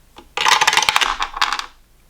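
A 10-sided die rolling and clattering on a hard surface, a dense bright rattle of quick taps lasting just over a second before settling, close and fairly loud.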